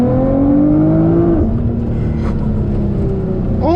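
A 2012 Nissan GTR accelerates hard, its engine note climbing steeply through a gear, dropping at a shift, then rising again, loud and close from inside the cabin.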